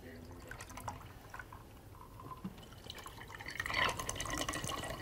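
A Bloody Mary cocktail is poured into a glass at a tailgate: quiet trickling and dripping liquid builds into a fuller splash toward the end, with faint background voices.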